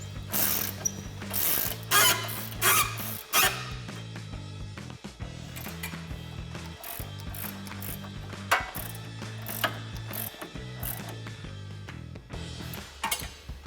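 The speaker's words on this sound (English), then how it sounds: "you're gonna take a 15 and 16mm ratcheting wrench to tighten down both of your" Ratcheting wrench, 15 and 16 mm, tightening front strut bolts on a 2011-2019 rear-wheel-drive Dodge Charger, a close, steady run of rapid clicking pawl strokes in repeated bursts with brief pauses and occasional metal clinks.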